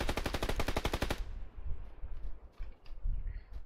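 Rapid machine gun burst in PUBG Lite, a fast run of evenly spaced shots lasting about a second, loud and close, then dropping to quiet game ambience with faint scattered noises.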